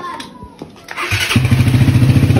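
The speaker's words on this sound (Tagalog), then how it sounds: "napakaganda talaga yung tunog ng Raider 150 ni Boss Yobert" A Raider 150 motorcycle engine cranks and catches about a second in, then settles into a loud, steady, throbbing idle close by, with no talking.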